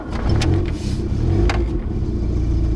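Close-up engine of a rebuilt VW Golf GTI MK2 running on its first test drive, a loud, steady low rumble with slight revving swells and light mechanical clatter, heard from inside the car.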